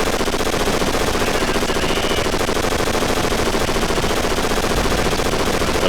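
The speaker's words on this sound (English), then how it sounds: "MG42." An MG42 machine gun in Call of Duty: Finest Hour fires long and close, a dense, unbroken rattle of rapid shots at steady high loudness through the whole span.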